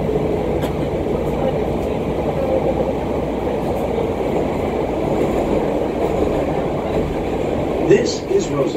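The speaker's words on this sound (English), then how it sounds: "Transfer to green and orange line trains at Roosevelt." A Chicago CTA subway train rumbles and rattles steadily from inside the car, a dense continuous roar with faint clicks, while a voice speaks over it.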